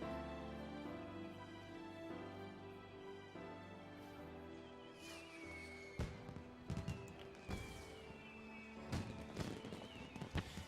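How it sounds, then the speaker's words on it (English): Fireworks in the Final Fantasy XIV video game burst in a series of sharp cracks and pops, growing denser in the second half, over a steady background of game music. "Yay, fireworks!"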